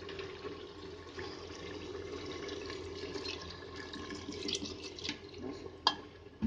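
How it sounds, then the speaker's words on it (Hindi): Water pours into a pressure cooker holding taro root pieces, a quiet, close splashing trickle that swells in short bursts toward the end. "तो ये हमने आधा गिलास के करीब पानी डाला है इसमें"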